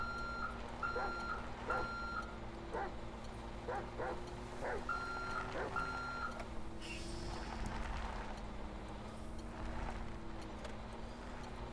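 Vehicle reversing beeps from a GMC bus being backed up in GTA 5, a string of regular electronic beeps over a constant engine drone, with some dog-like yips mixed in.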